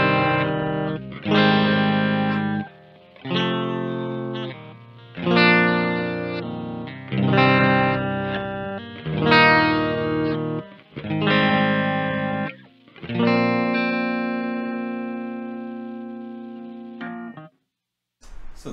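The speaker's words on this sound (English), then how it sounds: "a bunch of sound samples and a quick overview of a PRS SE Mark Holcomb signature" Distorted PRS SE Mark Holcomb electric guitar playing a series of ringing chords, each strummed and left to sustain with heavy effects, separated by brief pauses.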